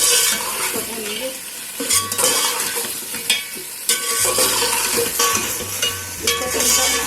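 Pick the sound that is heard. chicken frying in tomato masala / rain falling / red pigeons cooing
chicken frying in tomato masala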